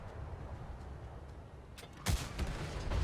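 Artillery fire in the PS5 game World of Tanks Modern Armor: a quiet, muffled stretch broken by a sudden heavy boom and rumbling follow-up bursts, moderately distant.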